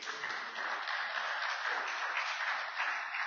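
Sustained applause fills a certification ceremony for trainees in Portsmouth, a dense, even wash of many hands clapping steadily throughout without a break.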